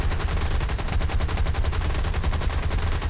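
Aircraft machine guns in the War Thunder air combat game fire one continuous rapid stream, loud and steady, with no talk over it.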